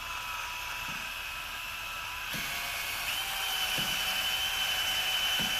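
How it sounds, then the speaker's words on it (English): A steady high-pitched whine of a power drill running continuously with a 3M abrasive pad polishing a bore on a Reliant Robin, with a polishing hiss and a few faint knocks, rising slightly in pitch midway. "take our bore polisher, which is just a 3M pad on a drill."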